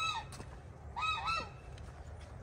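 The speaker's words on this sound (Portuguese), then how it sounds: "Olha os gansos saindo lá pra cima, dona Helena." Geese honk repeatedly at moderate distance as a flock walks off uphill on a rural property, the calls coming in short bursts over steady outdoor background noise.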